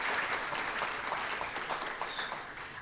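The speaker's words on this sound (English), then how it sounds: "another round of applause for our award winners" Warm applause for award winners at a STEM awards ceremony, a roomful of hands clapping steadily and fairly softly, slowly tapering toward the end.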